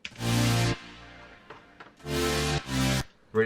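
Electronic music chords from a choppy sample pack with bass underneath, played as loud chopped stabs with gaps between, the chords cutting in and out in a rhythmic pattern, with no talking over them.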